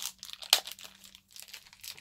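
Plastic wrap crinkles and tears as it comes off a Nintendo Switch-style charger, a sharp rustle near the start followed by steady close crinkling.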